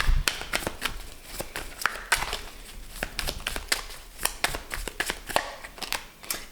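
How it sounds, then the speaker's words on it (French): Tarot cards handled and drawn from a deck, a close series of crisp paper flicks, slides and taps in an irregular rhythm, with no talk. "Je vais tirer une dernière carte."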